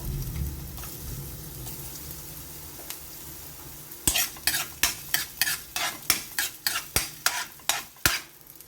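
Ginger sautéed in a little oil in a pan for chicken soup with sotanghon noodles: a steady low sizzle, then a run of about ten quick rhythmic spatula scrapes in the second half, close and fairly loud, with no talking.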